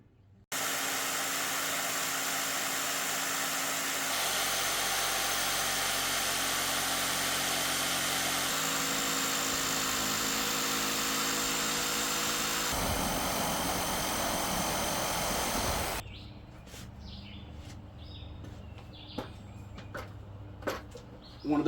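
A power tool cuts holes in composite Trex fascia trim board during deck trim work, giving a loud, steady buzzing whine that runs for about sixteen seconds, shifting pitch a few times, then stops, leaving faint scattered clicks and taps.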